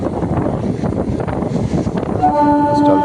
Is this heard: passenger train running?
yes